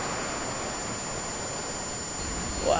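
A Freewing Avanti S radio-controlled jet roars past at full throttle, a steady loud broadband rush of ducted-fan noise that swells slightly at the end as it comes closer.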